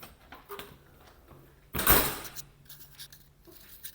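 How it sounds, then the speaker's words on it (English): Heavy doors on a cruise ship pulled open by hand, a single loud clunk and swoosh midway, with quiet ambient noise and faint thuds before and after. "We're going to pull these doors open like we own the place."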